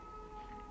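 A city emergency siren in New York holds a steady wail, faint and distant, with no voices over it.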